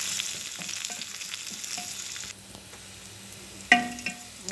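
Onions frying in a pan for masoor dal, an Indian lentil dish, give a steady, close sizzle with occasional stirring clicks; the hiss eases briefly partway through, then a sharper scrape or clatter breaks in.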